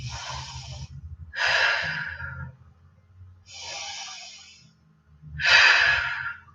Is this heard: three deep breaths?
yes